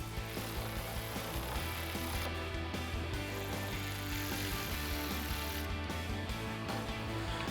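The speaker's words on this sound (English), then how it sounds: "we grab our 5mm socket and our Phillips head screwdriver and gently tighten these down" A 5mm socket tool tightens tail light bracket screws on a Jeep Wrangler JL, a continuous close ratcheting rattle over a steady hum of background noise, with no talking.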